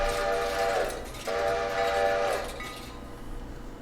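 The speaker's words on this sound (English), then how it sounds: "it was a steam engine too. Like, I'm hearing the whistle." A steam locomotive whistle in the video game Railroader sounds two long shrill blasts in a row, loud and close, over a low rumbling background.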